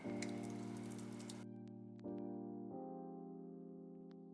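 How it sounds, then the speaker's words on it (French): Pesto with a garlic clove starts frying in a pan with a soft, hissing sizzle that lasts about a second and a half, then quiets. Steady sustained tones and a few light clicks continue underneath, all faint. "j'ai presque envie de la cuire, de le faire revenir à la poêle en fait"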